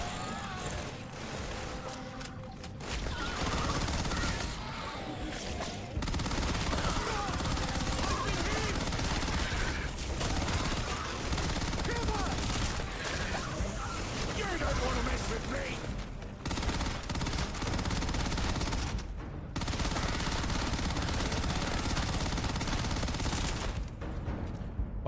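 Dense gunfire from the video game Starfield rattles almost continuously in long, loud bursts, with brief gaps near the start and later. A voice talks faintly underneath at times.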